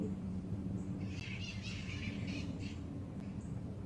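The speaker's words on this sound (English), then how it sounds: "You can probably hear the birds exchanging a few words right now" Faint, distant bird chirps and twitters drift over a steady outdoor rumble, a few calls spread across a few seconds.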